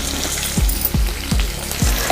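Onions fry loudly in a pan with turmeric and salt for a capsicum coconut masala curry, a steady close sizzle broken by four regular low scraping knocks of stirring.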